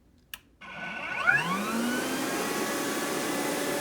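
A Rainbow E2 canister vacuum cleaner clicks on at high speed, then its motor spins up with a rising whine and settles into a loud, steady roar.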